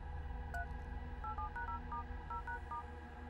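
Telephone keypad tones sound as a phone number is dialled, a quick run of short, clear beeps spaced unevenly over a low background hum, with no talk.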